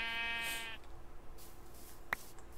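A short bleating farm-animal call from a cow in the Terrafirmacraft video game opens the clip, loud and close, then fades into faint game ambience with a brief click near the end.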